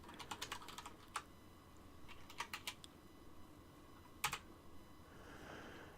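Clattering on a computer keyboard, quick irregular bursts of key taps with short pauses, soft and close, alone without talk.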